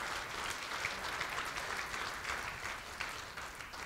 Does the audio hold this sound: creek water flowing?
no